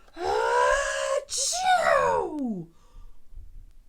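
A storyteller's voice imitates a bear sneezing from a fleck of pepper, a loud drawn-out breathy build-up falling into a strong 'achoo' burst, then quiet.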